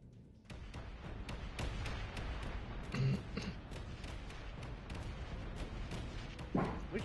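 Spaceship weapons fire in the video game Space Engineers as a dense, continuous barrage of rapid gunfire and booming impacts rattles on for several seconds, with a couple of heavier blasts standing out from the steady roar.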